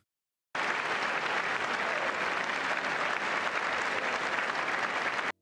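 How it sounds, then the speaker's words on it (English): Loud, sustained applause from a large audience filling an auditorium, steady dense clapping that starts abruptly and continues for about five seconds without a break. "look at just how many of the people stood up to clap for this"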